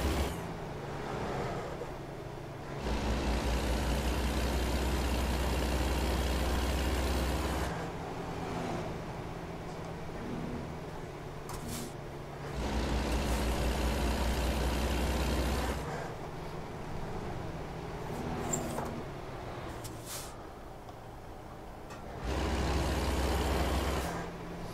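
Cars and trucks roll past in waves of traffic in American Truck Simulator, each pass swelling into a loud engine and tire roar lasting a few seconds, then fading back to a quieter hum, repeating four times.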